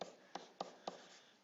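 Writing on paper or a board during a lesson on inverse functions: four short, sharp strokes or taps at an even pace, close and clear, with no voice.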